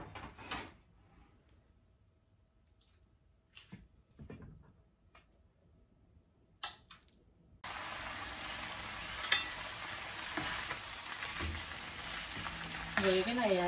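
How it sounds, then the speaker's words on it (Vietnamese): Marinated pork ribs for broken-rice cơm tấm go into a hot pan with oil. A few quiet kitchen clicks and handling knocks come first, then a sudden loud, steady, close sizzle continues to the end. "Để mình nướng cái sườn."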